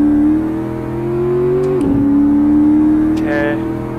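A rear-wheel-drive Chevrolet Camaro engine drones at a loud, steady pitch while driving, dips sharply as if shifting, then holds a sustained tone as it climbs back up.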